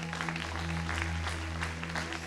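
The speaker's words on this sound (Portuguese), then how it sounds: "aplauda ao Senhor." Church congregation applauding during a worship celebration, a steady wash of clapping from a crowd at moderate level over a sustained low instrumental drone, with no speech.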